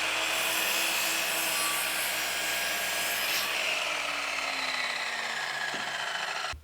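A saw cuts a wooden sawhorse leg at 15 degrees, giving a loud, continuous power-tool whine and grinding close by that holds steady for several seconds before cutting off abruptly.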